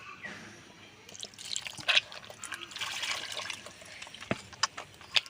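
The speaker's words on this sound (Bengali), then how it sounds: "এবারে আবার জল দিয়ে দেবো" Water trickled into rice flour dough for thin pitha, heard as soft, close drips and splashes with a few sharper plops, fairly faint and without any talk.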